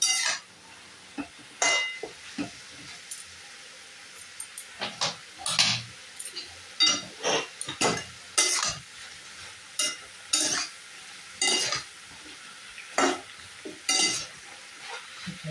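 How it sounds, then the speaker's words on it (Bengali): Mixed vegetables for shukto fry in a little oil in a pan and are stirred again and again. Soft, steady sizzling runs underneath, broken by regular scraping stirs, close and moderately loud, with no voices. "আমি সব রকম সবজি দিয়ে একটু তেল দিয়ে এটাকে একটু ভাজা ভাজা করে সেদ্ধ করতে দেবো।"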